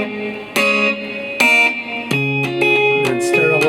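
Guitar slap-flick technique in a country-tinged song, a sequence of percussive plucked and slapped notes with ringing overtones, fairly loud and close, played alone without talking.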